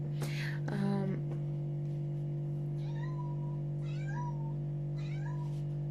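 A pet cat indoors meows close by, starting with a loud, drawn-out cry and then several softer, rising meows spaced a second or so apart, all over a steady electrical hum.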